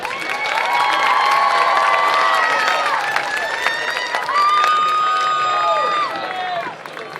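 Crowd at a Montgomery versus Cardinal Newman high school game cheering and shouting for an escorted honoree, loud sustained whoops and rising cheers with some clapping throughout.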